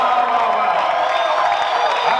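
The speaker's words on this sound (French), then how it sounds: "tu peux pousser les cris de joie" A big French-speaking crowd roars with sustained cheering and joyful shouts, a thick continuous wall of voices with some scattered clapping, loud and unbroken for a couple of seconds.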